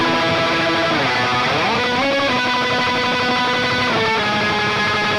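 Distorted electric guitar tremolo-picking a song's pre-chorus from Bocchi the Rock!, rapid sustained notes shifting pitch in a wall of loud, continuous overdriven sound with no talking.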